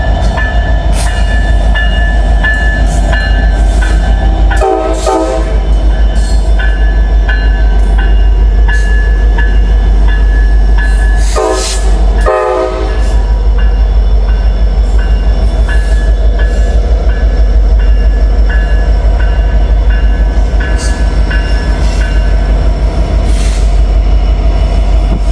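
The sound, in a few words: helper locomotives passing at Horseshoe Curve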